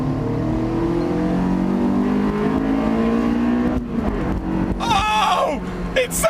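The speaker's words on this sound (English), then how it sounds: "listen to the VTEC" A Honda S2000 engine revs hard and climbs in pitch as VTEC engages, its note sharpening as it winds up, heard from inside with a brief voice near the end.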